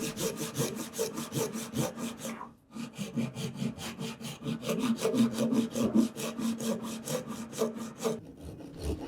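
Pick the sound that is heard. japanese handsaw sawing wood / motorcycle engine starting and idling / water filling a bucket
japanese handsaw sawing wood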